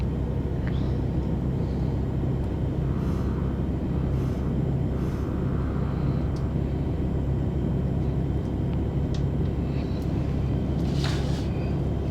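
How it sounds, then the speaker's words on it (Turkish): A steady, loud airplane engine drone rumbles throughout, a constant low roar with no breaks, like an aircraft passing close overhead, in the video game Euro Truck Simulator 2. "Arkanda da uçak var."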